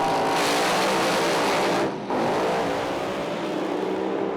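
Drag racing cars at a Speedweek event rev hard on and off the throttle, a loud, close engine roar that briefly drops before surging back and holding steady.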